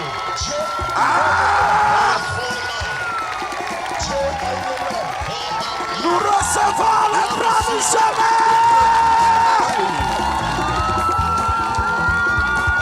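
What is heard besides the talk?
congregation applauding and cheering at Easter church service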